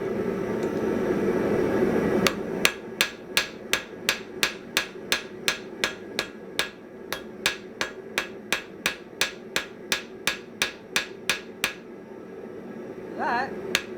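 A newly made hammer strikes a blunt cold chisel in a long, steady run of about twenty sharp metallic blows, close and loud, evenly spaced after a short stretch of low rumble.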